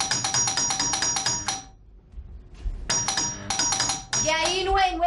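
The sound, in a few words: doorbell ringing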